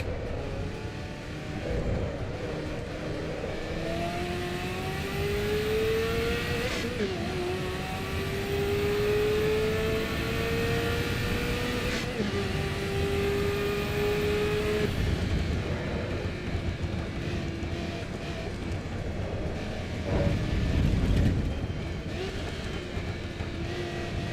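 A race car engine in the driving game Assetto Corsa EVO revs and climbs through gears, its tone rising in long sweeps with sudden drops at shifts, loud and continuous with no talking.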